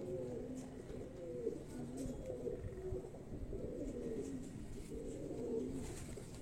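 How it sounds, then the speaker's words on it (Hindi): Pigeons of a particular breed cooing close by, repeated low rolling coos in a steady rhythm over a constant soft background hum. "ये उस ब्रीड से ये कबूतर है, ये आप देख रहे हैं"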